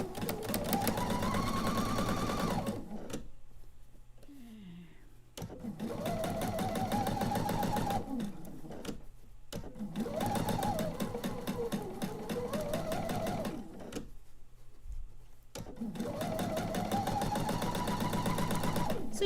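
Close, loud sewing machine stitching pieced quilt blocks in several long runs of fast, rhythmic needle chatter separated by brief stops, with a voice speaking during the pauses.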